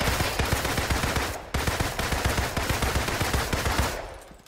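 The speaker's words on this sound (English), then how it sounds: "I'm going to shoot with the normal pistols normally." Black Widow's standard pistols fire in a Marvel video game, a rapid, steady volley of loud gunshots pausing briefly mid-burst before continuing, then stopping near the end.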